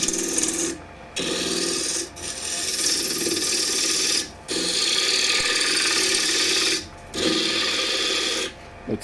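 A KS Schulte Midi II plus wood lathe spins a small piece of wood at 1200 RPM while a spindle gouge cuts it, giving a loud continuous rasping hiss close up, broken by several brief pauses.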